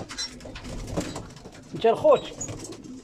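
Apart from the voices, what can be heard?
pigeons cooing in loft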